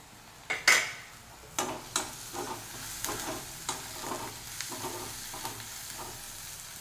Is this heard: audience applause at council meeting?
no